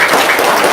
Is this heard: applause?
yes